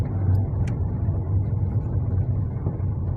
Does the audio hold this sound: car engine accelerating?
yes